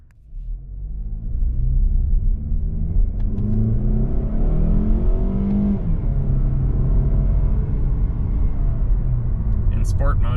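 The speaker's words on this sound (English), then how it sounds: "In sport mode, it does hold the revs a little bit more than if I had that turned off." 2023 Mazda CX-30 2.5 driven in sport mode, engine droning and rising in revs from inside the cabin, a steady low rumble under the road noise with someone talking over it.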